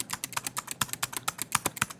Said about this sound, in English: I'm just going to go down typing 4 and hitting return